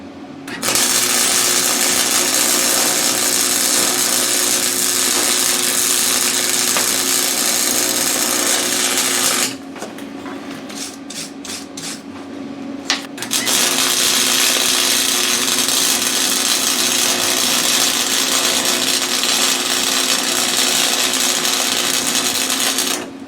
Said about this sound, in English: I'm going to set up and just put a little bead of weld around there